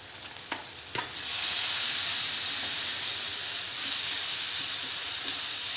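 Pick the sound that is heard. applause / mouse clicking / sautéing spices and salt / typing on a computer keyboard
sautéing spices and salt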